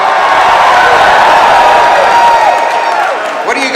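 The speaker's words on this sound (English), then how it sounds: "What are you guys cheering for over there?" A rally crowd cheering at a Canada First rally in Nisku, a loud, sustained roar of many voices that holds steady and then starts to fade toward the end.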